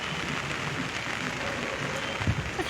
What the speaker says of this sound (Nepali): रातभरि यस्तै पानी पर्यो भने त नपरोस्